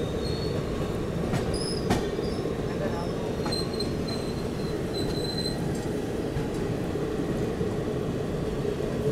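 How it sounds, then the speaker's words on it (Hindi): Seemanchal Express passenger train braking on Indian rails in flood-hit Bihar, a continuous heavy rumble of carriages with intermittent high-pitched wheel squeals and faint clicking, heard from inside the train, while a voice speaks briefly. "हमारी ट्रेन का लग गया ब्रेक।"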